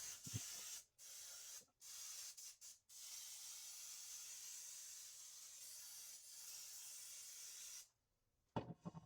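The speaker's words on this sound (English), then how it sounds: "Make sure you spray down your pan really good." A can of cooking spray hisses onto a baking pan in several bursts, with short pauses in between, then one long steady spray, close and loud.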